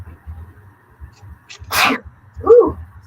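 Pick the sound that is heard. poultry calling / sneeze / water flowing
sneeze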